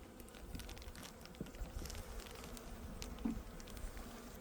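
A hive of honey bees hums with a steady, close insect buzz, with faint soft patter and shifting wing drone throughout and no voices.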